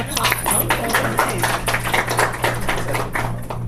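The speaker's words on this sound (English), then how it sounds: "that is worth a applause" Attendees at a team meeting give a round of applause, steady clapping from a small group close by, with people talking over it and a low electrical hum in the background.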